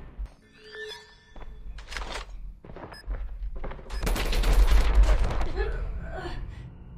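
Video game gunfire crackles in several short bursts and a denser, louder volley near the end, mixed with in-game booms and thuds while players talk over it.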